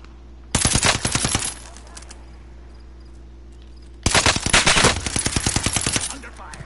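Automatic gunfire in a PS4 shooter, two long rapid bursts of machine-gun shots, loud and close, separated by a quieter stretch of game ambience.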